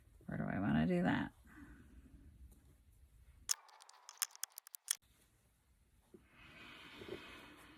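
Scissors snip through a fabric scrap for a Christmas tree craft, a quick run of sharp clicking cuts in a quiet room, with a brief spoken moment before and faint rustling around them.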